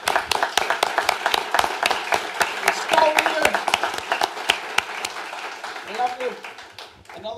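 A handful of people clap steadily and evenly throughout for a retired Navy scout leader at a bluebird society presentation, with voices murmuring underneath.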